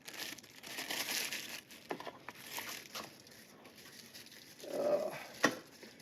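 A tool is unwrapped from crinkling paper from an antique Craftsman tool box, giving close, soft rustles and crackles in irregular bursts with a sharper snap near the end.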